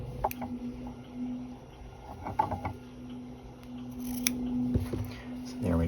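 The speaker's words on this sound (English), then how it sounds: "I like to clip out these corners because you don't want those to create bulk inside the garment" Scissors snipping the corners of a sewn fabric garment at a V neckline, a few sharp separate clips close by and fairly quiet, with a steady hum in the background.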